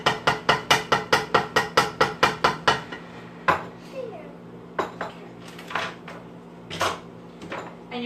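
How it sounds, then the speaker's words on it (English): Egg being beaten with hot sauce in a bowl for one pot mac and cheese: a rapid run of about a dozen sharp, even clacks of a utensil against the bowl, then slower, scattered knocks and clinks nearby. "So you're just going to beat it real good with the hot sauce."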